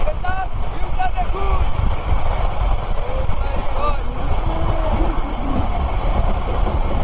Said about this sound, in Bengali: এটাই হচ্ছে কক্সবাজার এক্সপ্রেস ট্রেন।